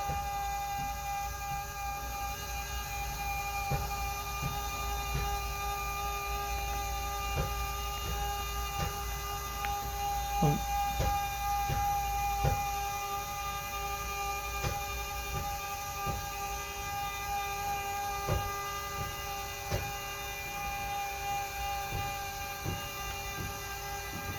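An electric motor raises the bed in a Dutchmen Endurance 3586 RV, giving a steady, close droning whine with a constant tonal hum and faint clicks throughout, with no talking.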